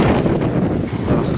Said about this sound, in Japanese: 風が強い